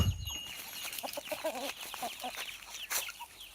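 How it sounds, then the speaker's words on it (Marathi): Chickens cluck in short, repeated bursts close by, with a steady chorus of birdsong and chirping in the background. "आपल्यापाशी कोंबडे पण आहेत"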